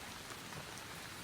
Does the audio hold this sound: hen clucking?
no